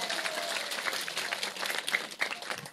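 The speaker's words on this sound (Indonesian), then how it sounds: "Tepuk tangan dulu dong." Audience at an Indonesian Islamic sermon applauding, a brief burst of faint, distant scattered clapping lasting a few seconds.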